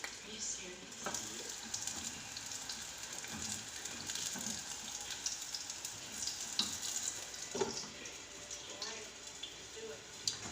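French fries deep-frying in oil, a continuous bubbling sizzle with soft crackles throughout, heard at moderate distance with voices talking over it.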